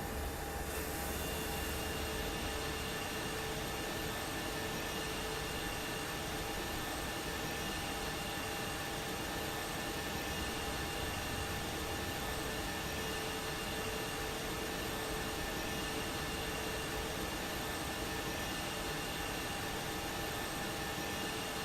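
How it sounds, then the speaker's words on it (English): An Airbus A220-300 jet engine in Microsoft Flight Simulator 2024 drones steadily, a loud sustained whine and rush of air with fixed high tones that runs unbroken throughout. "let's start the right engine first"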